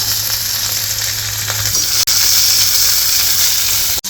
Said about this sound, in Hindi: तो तेल गर्म हो गया है, तो इसमें डालेंगे थोड़ा सा जीरा, तो प्याज डाल देंगे इसके अंदर